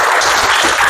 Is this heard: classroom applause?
yes